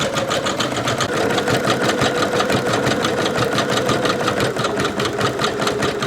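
Embroidery machine stitching a design onto a small canvas tote bag, a loud fast rhythmic mechanical chatter of needle strokes running steadily without pause, close by and with no talking.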